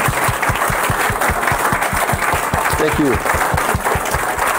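Steady applause from an audience fills the whole stretch, dense and even, with a brief spoken thanks heard over the clapping.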